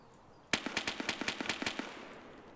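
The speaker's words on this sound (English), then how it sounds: "I'm just going to waste these HP shots into nothingness" A rapid string of about a dozen gunshots firing HP rounds in the shooter Escape from Tarkov, sharp, evenly spaced cracks starting abruptly out of quiet room tone and stopping after about a second and a half.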